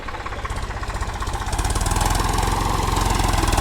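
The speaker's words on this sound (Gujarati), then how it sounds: "ટ્રેક્ટર આવી ગયું છે" A tractor engine arriving at a field being prepared for wheat sowing. A steady, close, chugging mid-pitched beat grows slightly louder and faster as it approaches, with no talk.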